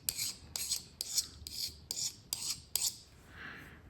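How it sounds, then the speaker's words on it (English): A small pocket diamond file rasps across a knife blade in a series of about seven quick, even strokes, close and fairly quiet, with a softer rub at the end and no speech. "I can sharpen my knife."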